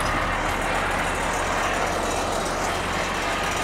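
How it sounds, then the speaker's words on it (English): A steady, deep engine rumble from a large Freightliner volumetric concrete truck idling nearby, constant and unbroken throughout. "There's Joel with his big truck, Freightliner, Big Daddy."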